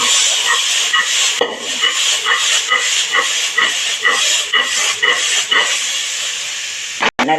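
Fresh field beans (pavte) land in a hot pan of tempering oil with asafoetida and turmeric, giving a loud, steady hiss with rhythmic scraping pulses from stirring, ending in a brief knock near the close.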